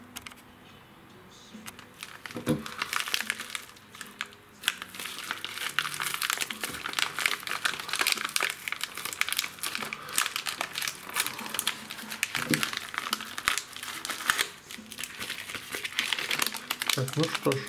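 An anti-static bag crinkles and rustles continuously while an Arduino UNO R3 board is unpacked, with dense crackling handling noise close to the mic and occasional sharper crunches; no voice is audible during the handling.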